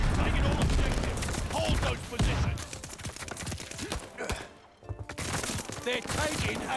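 Rapid game gunfire bursts from Call of Duty: Vanguard, a multiplayer match with an Automaton class, crackle loudly over a dense battle mix, with a brief lull before the shooting resumes.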